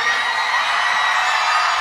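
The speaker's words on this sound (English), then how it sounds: "Give yourselves a round of applause." A live concert crowd at a duet roars with steady, loud cheering, applause and whoops that fill the whole stretch without pause.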